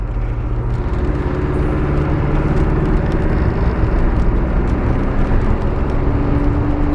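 A 1986.5 Porsche 928 drives and turns on its way to the freeway, with a steady, loud engine drone and road roar heard from inside the car and no speech.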